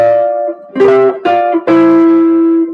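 Jazz guitar sounding chords and melody together, several sustained notes rung out in short phrases, close and clear, with no voices.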